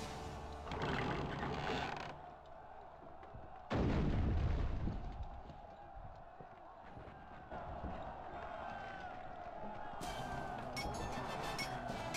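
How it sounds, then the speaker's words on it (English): A catapult fires in The Hobbit video game, a heavy booming launch followed by rumbling impact and mechanical clatter amid ongoing battle noise. "But let's use the catapult ourselves."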